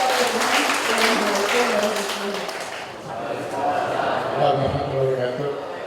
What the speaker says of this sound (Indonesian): baru sekali ada tepuk tangan di Masjid Al-Fajar